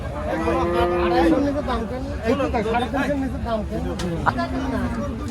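Cattle at the bustling Arunkhola cow market in Pabna, held for the Qurbani season, give a long low moo and later calls under loud crowd chatter and close speech.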